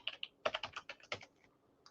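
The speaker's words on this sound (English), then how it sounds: "I'm sorry about the loud sounds on my keyboard" Quick bursts of keystrokes on a computer keyboard, about a dozen close, crisp clicks in an uneven rhythm, with short pauses between bursts in a quiet room.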